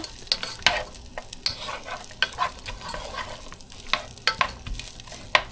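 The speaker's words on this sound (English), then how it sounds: "we're just about done sauteing the onions" Onions sautéing in a pan for chili, giving a soft continuous sizzle broken by frequent sharp scrapes and taps of a spoon, close by with no voices.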